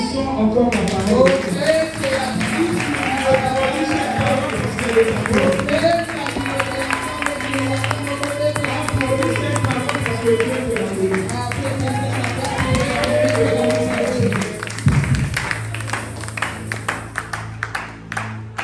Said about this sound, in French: Applaudissons encore la parole.